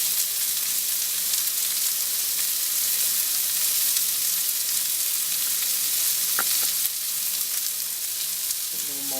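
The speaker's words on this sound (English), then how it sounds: "Saute them real quick, then they're done." Chicken sautéing quickly in a pan for Thai peanut curry gives a steady, bright sizzle with a brief stirring clatter near the middle, close and even, with no voices.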